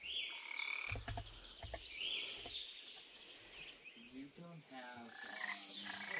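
Frogs croak in the Minecraft video game around water and lily pads, repeated low ribbiting calls mixed with chirping ambient nature sounds and insect-like trills, moderately loud and without talk.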